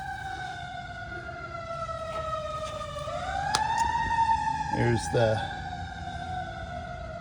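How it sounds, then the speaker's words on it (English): A passing ambulance wails steadily outside, its siren sliding in pitch as it goes by, while someone speaks briefly close by near the sound. "Ignore the ambulance, that happens all the time around here."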